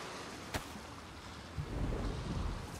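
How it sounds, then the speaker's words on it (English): A low rumble of thunder rolls in under soft rain patter as a storm approaches in the survival video game DayZ, faint and distant, with a sharp crackle early on. "I hear the storm coming."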